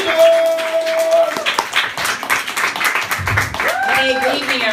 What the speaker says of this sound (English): Start clapping for Krista Commodore